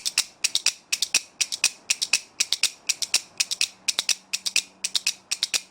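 Crisp kuaiban bamboo clapper clacks in quick clustered bursts, repeating in a steady, lively rhythm, close up and alone.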